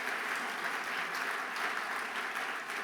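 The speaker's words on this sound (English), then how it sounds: "Please join me in giving these fantastic performers a round of applause." Audience applause for performers at a conference opening plenary session, a steady, dense wash of many hands clapping continuously at even loudness throughout, with no voices over it.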